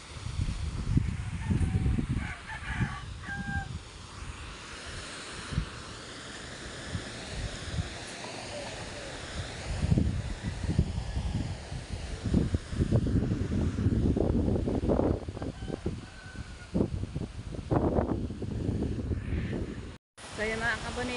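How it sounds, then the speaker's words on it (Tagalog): Strong wind gusts across a house rooftop by the sea after a typhoon, a steady loud rush with buffeting bursts while someone talks over it throughout. "malakas ang hangin, baka mahina aking boses dito."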